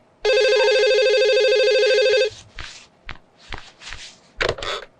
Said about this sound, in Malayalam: ഫോൺ എടുത്ത് മുന്തേട്ടനൊന്ന് വിളിച്ചേ.